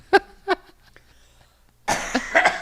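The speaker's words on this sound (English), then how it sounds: "I'm trying to cough this out" Two short coughs, then a pause and a longer burst of harsher coughing, close and fairly loud.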